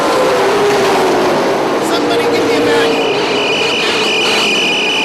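Super late model race cars roar around a track, engines loud and close with a rising whine as one passes, under an announcer's continuous commentary.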